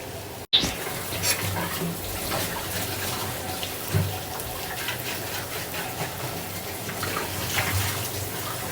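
Ramen noodles sizzle and bubble in a pan with a steady watery hiss as they are stirred, after a brief clack at the start, continuous and close.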